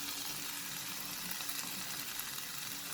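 Two green chilies going into a pan of cooked tomatoes for eggplant bharta, with a soft, steady sizzle and bubbling that stays faint and even throughout.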